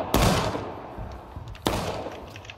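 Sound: musket volley fired in the video game War of Rights

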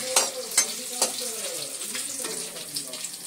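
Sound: onions frying in hot oil with salt

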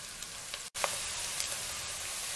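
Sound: bacon and linguiça sausage frying in a pan

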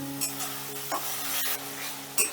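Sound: spice masala being stir-fried in a pan

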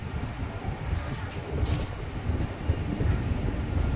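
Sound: Kochuveli Express train slowing down at Wadhwan station

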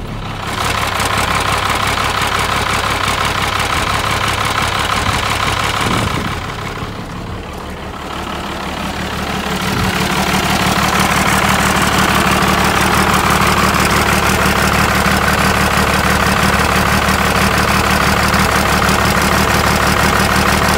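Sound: engine with compound turbo setup idling

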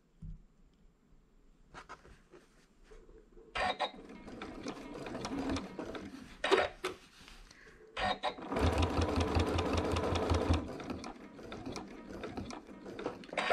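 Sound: sewing machine stitching quilt sashing

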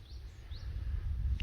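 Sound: birdsong on Purple Island in the morning

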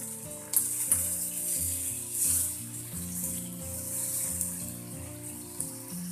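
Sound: tomatoes frying in oil in a kadhai

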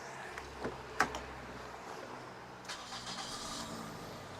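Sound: car engine starting and idling smoothly

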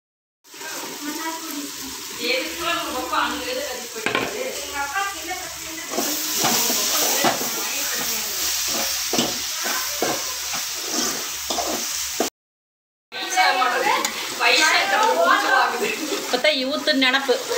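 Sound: mushrooms frying and being stirred with spices

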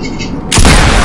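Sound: gunshot in a video game

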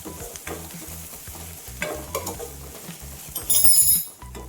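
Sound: onions frying in a pan

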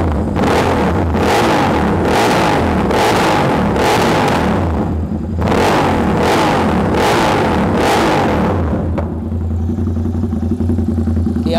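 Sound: Royal Enfield Super Meteor 650 custom exhaust revving

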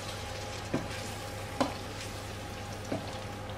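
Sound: stirring grated tomato sauce in a pot

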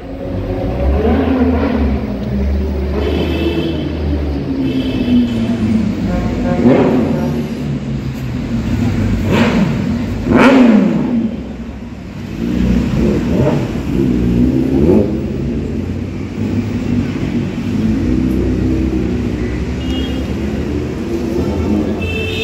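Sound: superbike engine revving as it passes

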